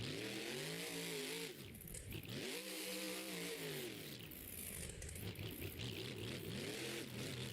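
A small truck revs on an obstacle course track, engine pitch rising and falling in repeated swoops with scraping and whining, faint and somewhat distant.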